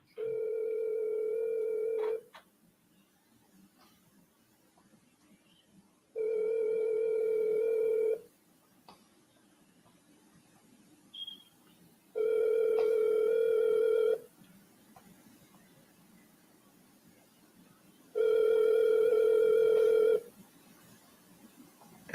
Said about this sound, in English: So if they don't answer the phone, we call them again.